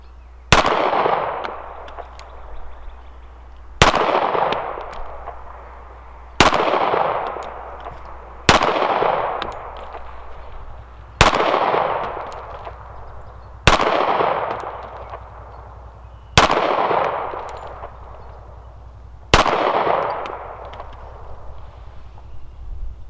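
A case-colored Standard Manufacturing 1911 pistol fires 230-grain rounds at an outdoor range, eight sharp, loud shots spaced about three seconds apart, each followed by a short ringing decay.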